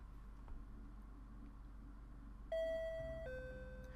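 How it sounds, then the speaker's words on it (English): A doorbell chimes in two bright tones, ding then dong, over a steady low hum of room noise. "The doorbell rings all of a sudden."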